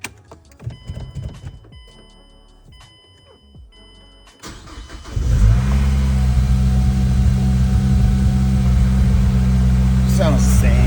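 A Mazdaspeed 3 with a Corksport manifold and no exhaust or muffler cranks and fires up after some clanking and handling noises, then settles into a loud, raw, steady idle with a deep droning hum.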